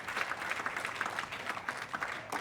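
A tennis crowd at a women's pro match claps after a winning shot, a brief patter of scattered applause with rhythmic hand claps, moderately distant and fairly soft.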